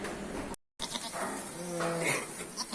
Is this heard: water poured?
no